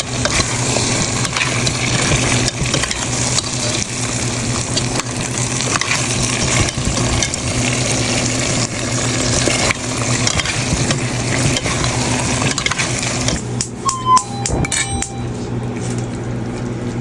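Cow kidney curry with potatoes and spices stir-fried in a pan, a loud continuous sizzle with steady scraping stirs throughout and a few sharp metallic clinks near the end.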